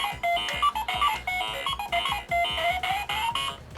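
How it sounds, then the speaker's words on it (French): Startup tune from a Pac-Man lamp plays the video game's bright, bleepy electronic melody over a pulsing bass line, loud and close, with no talk. "en principe quand la branchant vous devriez entendre sa musique de démarrage"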